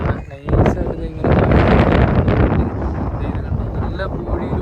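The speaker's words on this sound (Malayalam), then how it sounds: "നല്ല കാറ്റുണ്ട് കേട്ടോ" Strong wind on Dhanushkodi beach buffets the microphone in loud, continuous gusty rumbles after a brief quieter start, roaring throughout.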